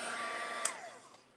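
A hair dryer blowing on a painting to dry the paint gives a steady, close airy whoosh with a faint falling whine, running throughout and easing slightly toward the end.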